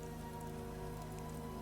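Steady rain falls at night, a soft, even patter that stays constant and fairly faint throughout, with no voices.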